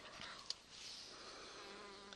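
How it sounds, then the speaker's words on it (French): A housefly buzzes close by during a craft session, a faint continuous drone with a couple of small taps. "elle veut son quart d'heure de célébrité, la mouche."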